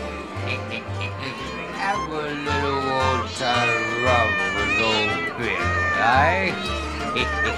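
A cat meows repeatedly amid the animatronic scenes of the Pirates of the Caribbean ride at Walt Disney World, mixed with pirate-show music, sound effects and spoken ride dialogue.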